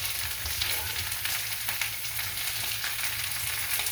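Garlic and broccoli frying in a pan, a steady, dense sizzle with fine crackling that carries on evenly throughout, fairly close and without speech.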